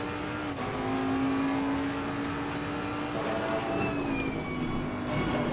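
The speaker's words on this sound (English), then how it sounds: "I'll get back onto the accelerator early there" A Bentley GT race car in Assetto Corsa Competizione accelerates out of a corner at Imola, its engine note holding a steady, loud whine that climbs slightly, with a brief gear change and no talk.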